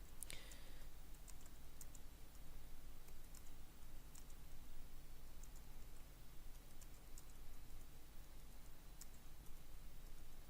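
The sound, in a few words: typing text on a computer keyboard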